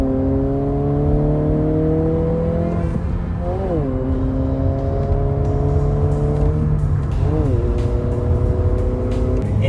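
A 2026 Honda Civic Si fitted with a PRL air intake revs hard and steadily, with quick throttle blips around the third and seventh seconds that pitch the engine note down and back up, loud and close throughout.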